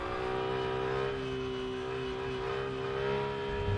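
Steady race car engine holding a constant high whine with layered harmonics, driving a lap in the Rennsport racing game, running loud and continuous with slight rises in revs and no talk.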